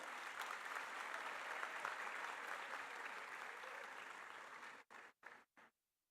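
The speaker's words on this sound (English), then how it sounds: "please give a round of applause to Masara Saab." A large audience of university students gives sustained applause at an event, a dense continuous wash of clapping that breaks off abruptly into a few choppy bursts before silence.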